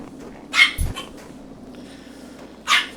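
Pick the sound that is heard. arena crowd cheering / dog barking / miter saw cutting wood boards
dog barking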